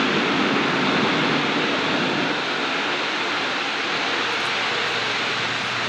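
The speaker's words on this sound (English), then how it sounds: "A400 now, starting the take-off run. This is Atlas." An Airbus A400M Atlas military transport starts its take-off run at the Farnborough airshow, a loud, steady, broadband engine roar that holds without a break.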